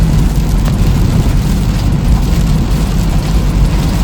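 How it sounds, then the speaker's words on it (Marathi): Strong wind and heavy rain batter a car on the road between Hyderabad and Mumbai, a loud, constant low rumbling roar of buffeting and rushing air with no voices. "वारा आणि पाऊस खतरनाक पाऊस आहे वाराले खतरनाक गाडी हलवते पूर्ण"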